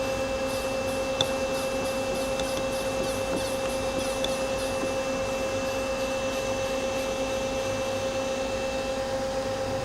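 A Mazak SQT-200MY CNC lathe jogs its C axis, giving a steady machine hum with a fixed whine and faint ticks, continuous and even with no voices.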